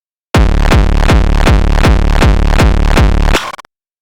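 Distorted hardcore kick drum with LFO-modulated distortion and added zero-square distortion, hitting nine times in a steady rapid pulse, loud and heavily saturated, then cut off abruptly with a short tail.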